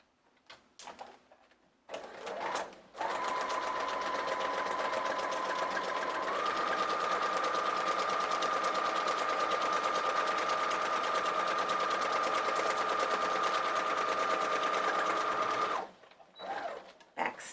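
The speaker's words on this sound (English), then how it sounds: "we'll sew down the other side" A sewing machine stitches down the side of fabric trimmed with sequins in one steady, continuous run of about thirteen seconds, with a sustained whine, then stops.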